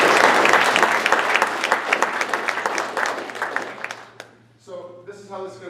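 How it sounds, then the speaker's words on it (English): An audience applauds at a meeting, with thick, steady clapping from a sizable crowd that fades out before a voice starts speaking. "let's give them a really good round of applause and thank them for what they've done"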